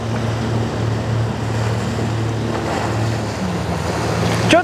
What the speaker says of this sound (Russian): Вот с перегруженной кормовой частью лодка не сразу вышла в глиссер